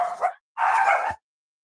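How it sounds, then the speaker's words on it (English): Dogs barking indoors in two bursts, a short yap followed by a longer, louder bark, close to the microphone and standing alone between stretches of silence. "My dogs are barking."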